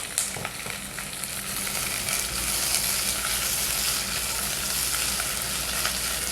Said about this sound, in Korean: 지글지글 대파가 숨이 완전히 죽도록 볶아주시면 돼요